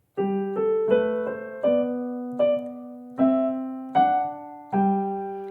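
Piano notes ring out one after another in a steady, unhurried pattern, lower bass notes sustaining beneath a simple repeating line.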